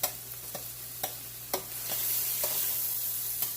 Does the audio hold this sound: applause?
no